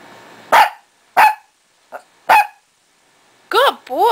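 A dog barks three sharp, separate times with pauses between them, close and loud, while answering a math question, followed by a person's high-pitched, sing-song praise.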